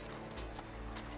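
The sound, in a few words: horse-drawn carriage, hooves clip-clopping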